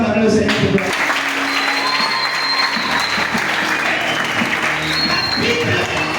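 A church congregation bursts into sustained applause, a loud, dense clapping that fills the room for several seconds, mixed with shouted voices and cheering throughout.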